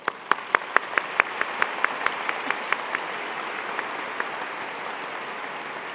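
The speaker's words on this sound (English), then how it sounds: "Please join me in applause." Audience applause at a spring 2022 Eberly College of Science commencement, opening with a few loud, distinct claps, then thinning into a steady patter that gradually fades.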